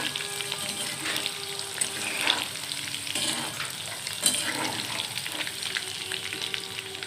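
Potato and pointed gourd pieces fry in oil in a new wok, giving a continuous close crackling sizzle with occasional clatter from stirring throughout, and no one speaking.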